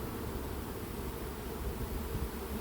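A runaway swarm of roughly 35,000 to 40,000 honeybees hums steadily while crawling into a cardboard box in Ozoir-la-Ferrière, a dense, continuous buzzing close by with no talk.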